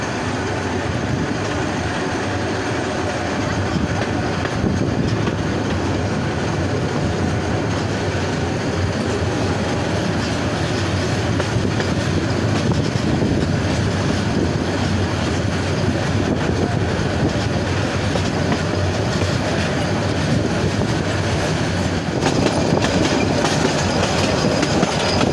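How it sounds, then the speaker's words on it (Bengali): The Teesta Express pulls out of Islampur railway station with a steady, loud rumble of wagons and rhythmic wheel clatter on the rails. Faint squeals rise through 25 seconds of unbroken train noise. "ইসলামপুর রেলওয়ে স্টেশন থেকে ট্রেনটি ছেড়ে গেল।"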